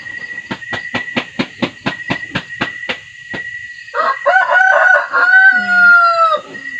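A rooster crows loudly and close by after a quick series of sharp, regular clucks or taps, the drawn-out crow ending the sequence.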